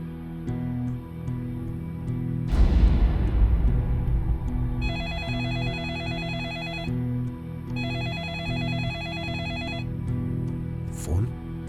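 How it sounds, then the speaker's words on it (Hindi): A telephone rings in an animated horror comic: two long bursts of a rapid electronic trilling bell, loud and close, following a swelling dramatic music sting over a low ambient bed. "फोन"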